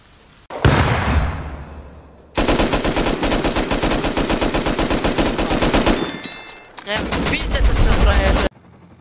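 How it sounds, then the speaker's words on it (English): Rapid automatic gunfire in the video game Rust, loud sustained bursts of fast rhythmic shots that run for seconds, pause briefly, then resume, with voices mixed underneath. "Oh, that guy's shooting."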